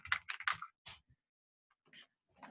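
Typing on a computer keyboard during HTML coding, short bursts of clustered key clicks then a pause and a few scattered taps, close and fairly quiet, no talk.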